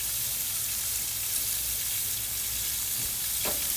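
Steak sizzles steadily in hot butter in a pan, a loud, continuous frying hiss with no one talking.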